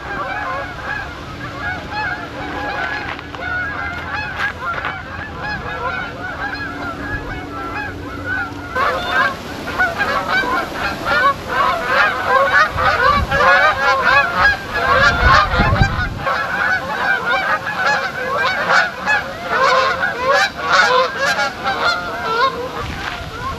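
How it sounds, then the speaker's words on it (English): A large flock of geese passes over Willow Lake, honking continuously in overlapping calls that swell louder after the first few seconds and stay dense to the end, with no talk. "oh wow, all these geese."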